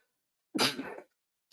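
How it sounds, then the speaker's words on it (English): A single sharp human sneeze bursts out of near silence, loud and close, lasting about half a second, followed by quiet. "I felt that sneeze coming, and I felt it was probably better to let it out than to try and hold back that sneeze"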